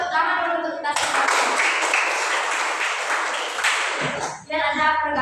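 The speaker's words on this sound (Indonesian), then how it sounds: "kasih tepuk tangan dulu untuk kita semua" Students clapping together in a classroom during a coding and artificial intelligence lesson, a burst of brisk applause lasting about three seconds, framed by a teacher's voice before and after.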